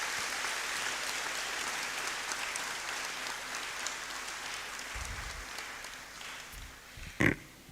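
Audience applause following an inaugural lecture by Prof. Samuel Adjei-Nsiah in Ghana, a steady wash of clapping from a large hall that holds evenly for several seconds, with a brief sharp knock near the end.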